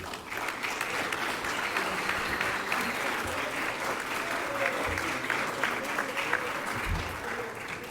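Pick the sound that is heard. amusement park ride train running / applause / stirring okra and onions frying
applause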